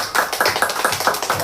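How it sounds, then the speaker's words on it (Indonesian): A class of third-grade children claps together in a rhythmic, rapid patter, about seven pulses in a second and a half, loud and close in a classroom, with no talk. "Oke, tepuk tangan buat kananya."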